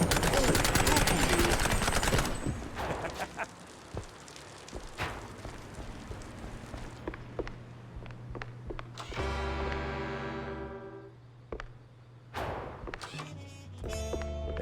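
Rapid gunfire and a burst of bangs open the scene in the video game Mouse P.I. for Hire, followed by scattered thuds, mechanical hums and game sound effects at a lower level.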